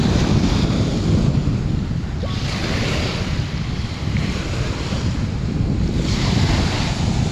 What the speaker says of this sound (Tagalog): Maganda pa pakinggan yung tunog ng alon mga kababayan